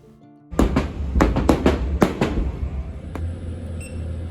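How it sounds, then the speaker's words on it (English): Fireworks over the water seen from a cruise ship balcony on the Disney Wish: a sudden burst of sharp cracks and pops, several in quick succession, followed by a lingering low rumble and scattered fainter bangs. "just watch the fireworks like Cam and I are doing right now"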